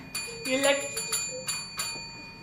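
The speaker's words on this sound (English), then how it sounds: "And you may also ring the bell." A small bell rung several times in quick repeated strokes during a stage play, bright metallic rings that decay over a quiet background with light voices.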